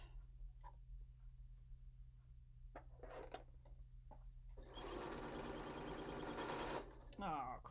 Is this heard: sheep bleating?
no